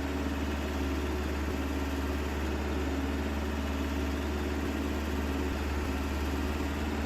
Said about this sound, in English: I thought the tractor would make for a nice drive up here, but it's pretty slow.